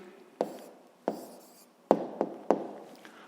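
Chalk or pen writing an answer during a sixth-grade maths lesson: five short, crisp scratching strokes with pauses between them, close and quiet, with no voices.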